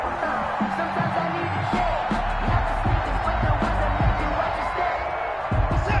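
A video game football crowd roars and cheers in a steady wash under a commentator's voice, with occasional louder bursts.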